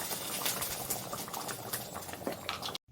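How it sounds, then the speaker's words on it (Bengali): Green banana kofta curry bubbles in a pan, a dense, close simmering crackle with small pops running steadily before cutting off abruptly at the end. "কোপ্তা দিয়ে কিন্তু বেশিক্ষণ ফোটানো যাবে না"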